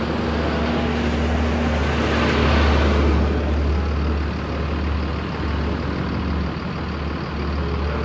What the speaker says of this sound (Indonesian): Tadi ada beberapa bus yang lewat.